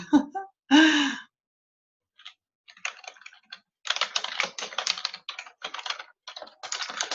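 Close, rapid clicking of keys typed in bursts with short pauses, preceded by a couple of breathy vocal sounds.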